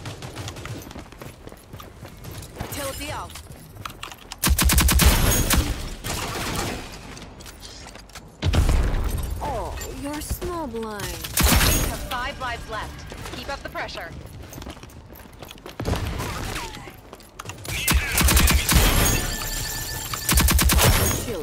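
Repeated sprays of automatic gunfire in the video game Rogue Company, loud bursts broken by quieter gaps, with players talking excitedly throughout.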